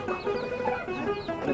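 Chickens on a Cambodian poultry farm cluck in quick, soft, overlapping bursts, a small flock murmuring at moderate distance with no other sound.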